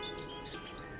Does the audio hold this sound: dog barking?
no